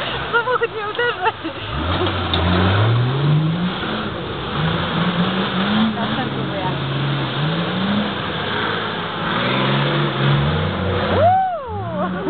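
A car drives and revs through muddy ground outside, its mid-pitched engine rising and falling continuously under excited talk from people nearby.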